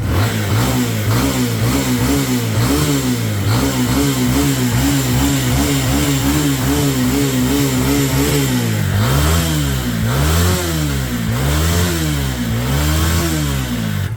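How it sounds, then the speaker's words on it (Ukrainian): A 200cc Geon Pantera motorcycle engine, type 162FML, running close up, a steady throbbing idle with repeated rises and falls in revs, loud and continuous. "Добре працюючий 200-кубовий двигун"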